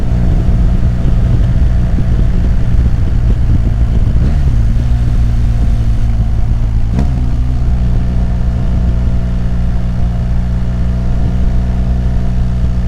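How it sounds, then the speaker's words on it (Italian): Loud, steady BMW R 1250 GS Adventure boxer engine drone with Akrapovic exhaust at 100 km/h in sixth gear, with deep exhaust rumble and road noise, no talking. "impostiamo i 100 km/h in sesta marcia per sentire l'effettivo rumore"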